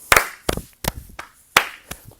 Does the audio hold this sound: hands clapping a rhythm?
yes